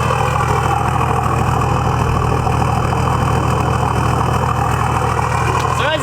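Toyota LandCruiser 4WD with a 1HDT diesel idling through a 3-inch straight-piped exhaust, a steady deep rumble with a low throbbing pulse that holds loud and unbroken throughout.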